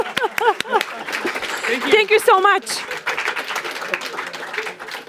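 An audience claps at an awards ceremony for final presentations, the clapping building into steady broadband applause after a voice speaks briefly at the start.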